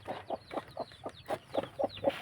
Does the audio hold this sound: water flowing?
no